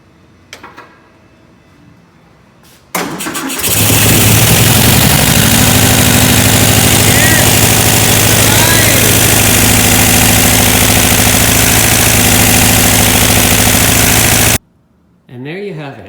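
A carbureted engine with freshly set timing, carburetors and choke cranks and catches at about three seconds. It then idles loudly and steadily for roughly eleven seconds before cutting off abruptly, with a brief restart of sound near the end.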